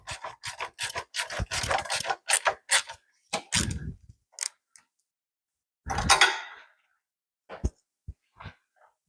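Metal BMW R1300GS pannier frames clack and rasp as they are fastened, a run of sharp close clicks and scrapes, then a burst of rubbing and a few scattered taps with pauses between.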